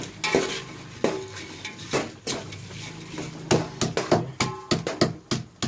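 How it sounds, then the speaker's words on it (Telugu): Spices such as cardamom, cloves and crushed cinnamon stirred into a pot for bagara rice, with a spoon loudly clanking and scraping against the metal in quick repeated strokes, close up and with no talking. "ఇప్పుడు మిక్స్ చేయాలి"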